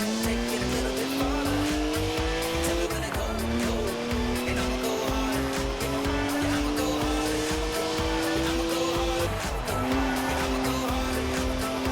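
A BMW drifting in the Forza Horizon 4 racing game, with a loud, steady engine drone and continuous tire squeal through a long slide. Pitch rises and falls between shifts.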